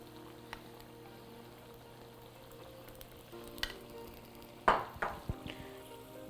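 Pesto stirred through pasta in a frying pan, a quiet low sizzle with scattered spoon-and-pan scrapes and clinks growing busier toward the end.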